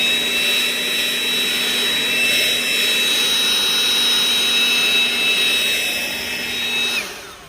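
A DeWalt 20V GEN 2 brushless cordless leaf blower (DCBL722P1) roars close and steady as it blows leaves, with a high whine held throughout before it winds down near the end.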